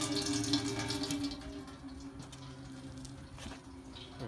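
Coolant drains from the expansion tank of a Mercedes 300D, a steady running trickle of liquid with some splashing, close and continuous throughout.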